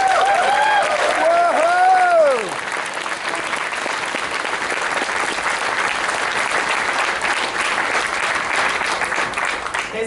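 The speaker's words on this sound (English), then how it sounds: "So give them a round of applause." Crowd applause at a fur convention's closing ceremony, sustained clapping with a cheer from the room; it starts under a voice's sustained tones for about two seconds, then continues alone as a dense, even roar of hands.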